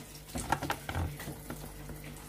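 A pump draws up water and muck while cleaning out a pond filter, giving short gurgling, sloshing bursts and irregular sucking pulses close by, fairly quiet overall with no speech.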